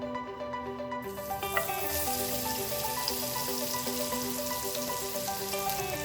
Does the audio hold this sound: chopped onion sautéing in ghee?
yes